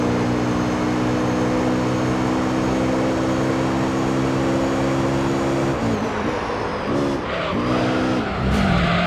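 A Honda NSX race car in Gran Turismo 3, its engine holding a steady loud drone, then revving up and down through gear changes with tire squeal as it corners.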